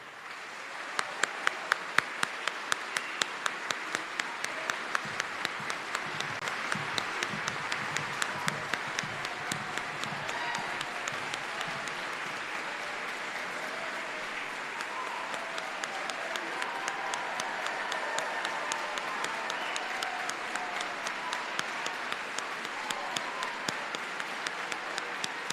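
Sustained audience applause at a county high school band concert as the band directors are welcomed to the stage, a dense wash of many hands clapping that continues steadily at moderate volume for about twenty-five seconds.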